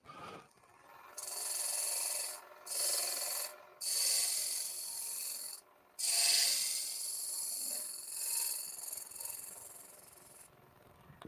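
Wood being scraped on a lathe, a new species of timber tested with a scraping tool, gives bursts of steady hissing rasp that start and stop several times and dominate the recording at close range, with no talking.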